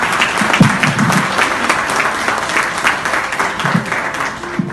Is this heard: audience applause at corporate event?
yes